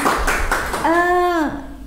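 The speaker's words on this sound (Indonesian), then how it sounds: "Tepuk tangan dong buat Green Club kita ini ya." Brief applause from a school audience for a green club at an Indonesian event, a few quick claps mixed with a sustained voice close to the microphone.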